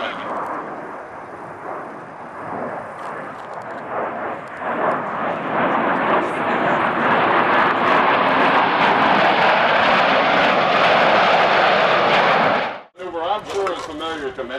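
Four Blue Angels jets in tight diamond formation pass by in 1987, a loud sustained roar that swells and holds for about twelve seconds before cutting off abruptly.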